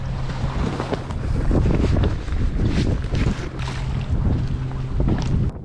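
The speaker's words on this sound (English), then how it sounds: "Tally-Ho is definitely sailing now" A sailboat running under full sail in a stiff wind, with a steady loud roar of wind across the microphone, rushing water along the hull and faint creaks, continuous throughout.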